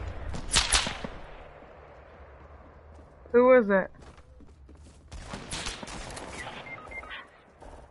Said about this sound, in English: The gunshots!